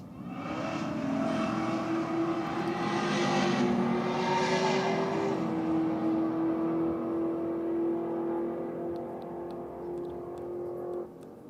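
A Ford Mustang and a Holden VZ Calais make a drag racing pass at a Race 4 Real Sunday session, engines roaring loud and close with a rising, sustained tone that holds steady before cutting off near the end.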